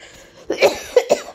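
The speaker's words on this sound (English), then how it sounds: "I can't stop coughing" A person with a cold coughs, a few harsh close coughs in quick succession, loud and alone.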